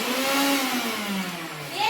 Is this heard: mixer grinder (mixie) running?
yes